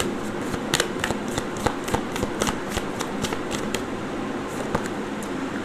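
Tarot cards are shuffled and drawn, giving faint, irregular crisp ticks and snaps over a steady background hum, with no talk.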